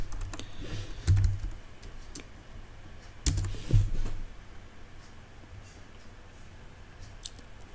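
Quiet keystrokes and clicks on a computer keyboard during Python programming, a couple of sharper taps standing out over faint room noise.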